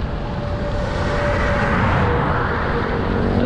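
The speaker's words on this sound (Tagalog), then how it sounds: "Lakas ng hangin." Strong wind buffeting a rider on a road trip through open country in Cagayan, Philippines, a loud continuous low roar with a faint engine tone beneath it.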